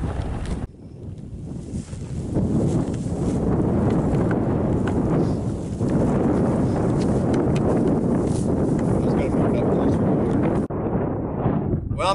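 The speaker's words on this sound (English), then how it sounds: "please excuse all the wind here, but that's what you get on the prairie" Strong wind on the open Wyoming prairie buffeting the microphone in a loud, steady roar that barely lets up for the whole stretch.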